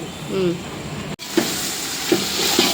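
Green chillies and onions sauté in a pan with coriander and fenugreek leaves, a steady close sizzle with a few stirring knocks, while a voice briefly talks over it.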